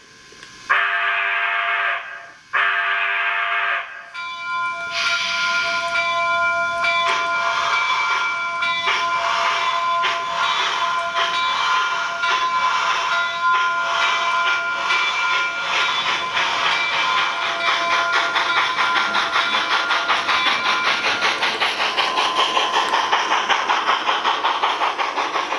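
A Rapido HO Royal Hudson model steam locomotive pulls out, opening with two short blasts of a sound-equipped steam whistle, then a steady chuffing that builds with rhythmic beats and hiss over a continuous mechanical hum.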